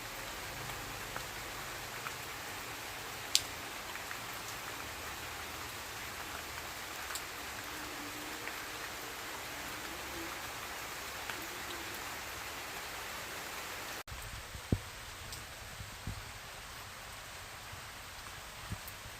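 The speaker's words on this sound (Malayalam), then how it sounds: "നല്ല മഴയുണ്ട്." Dense, steady rain pattering down without a break, a constant hiss of drops on surfaces.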